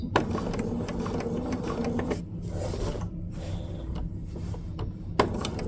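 A sewing machine stitches a raw edge appliqué quilt, running in steady mechanical bursts with brief pauses and a couple of sharp clicks, close and alone.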